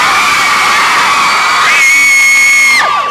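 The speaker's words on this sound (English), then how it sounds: "Bradley, I'm going to allow a few screams for you first" A live audience screams and cheers loudly for a cast member of a hit show being introduced on stage, a dense sustained roar of shrieks and whoops that rises sharply partway through and then cuts off.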